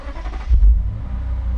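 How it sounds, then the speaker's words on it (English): Lexus RC F with a 5-liter V8 fires up by push button, a short loud starter catch and rumbling bark that settles into a deep, steady idle close by. "And you can hear that 5-liter V8."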